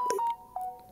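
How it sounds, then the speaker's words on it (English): A telephone goes off in the background: a steady electronic tone sounds and holds, cuts briefly, then returns for a moment, soft and distant under a quiet room. "sorry for the phone going off in the background there"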